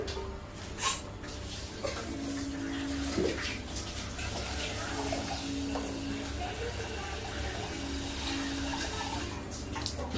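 Water runs steadily into a cooking pot in a home kitchen for a sambar, a continuous splashing stream with faint background voices.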